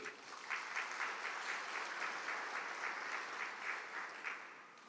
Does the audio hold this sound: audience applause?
yes